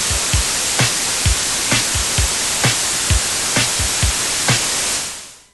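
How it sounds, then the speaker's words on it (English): A loud, steady hiss of white noise from a synth in Ableton, with a regular thumping beat underneath, fading out at the end. "White noise doesn't have a tone."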